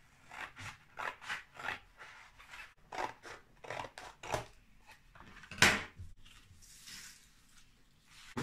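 Scissors cut through the back of a cardboard box to trim a white backdrop for a diorama, a run of short, close snipping crunches in quick rhythm with one sharper rasp near the end and no talk.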